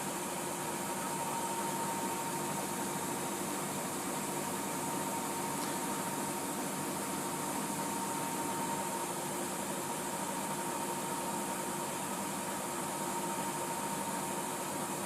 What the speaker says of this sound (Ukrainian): Режим віджиму вже пішов, завершення прання.